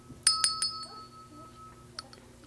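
A broken bell gives several sharp, bright metallic dings close together, then a lone fainter ding a moment later, each decaying quickly over quiet room tone.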